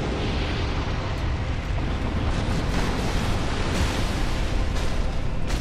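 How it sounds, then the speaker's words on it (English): An explosion in Dark Souls sounds as a sustained, heavy rumbling roar that stays loud and dense for several seconds, with no speech over it. "That was the explosion"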